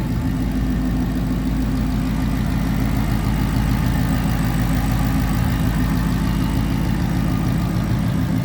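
A Roushcharged 5-liter supercharged V8 in a 2015 Ford Mustang GT coupe idles with a steady, loud, deep rumble and an even low pulse throughout, heard close with no talking.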